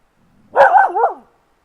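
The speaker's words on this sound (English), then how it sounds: "No barking, buddy, it's just a horse" A single close, loud dog bark with a wavering, whining tail, aimed at a horse at a campground, with silence before and after.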